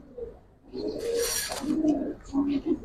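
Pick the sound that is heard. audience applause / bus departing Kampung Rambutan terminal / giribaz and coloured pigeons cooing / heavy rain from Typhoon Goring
giribaz and coloured pigeons cooing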